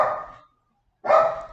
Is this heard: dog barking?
yes